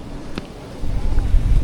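Strong wind at a hilltop overlook with windmills, rumbling into the microphone as low, blustery buffeting that grows louder and gustier toward the end of the short stretch.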